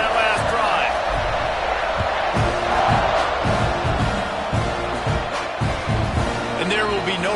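A stadium crowd at a Texas A&M versus West Virginia college football game roars steadily, a broad, distant wash of cheering with sharp whoops and bangs, under a commentator talking throughout.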